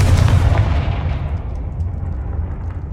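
The Confringo fire spell blasts in Hogwarts Legacy with a loud booming burst that rolls off into a fading rumble over a few seconds.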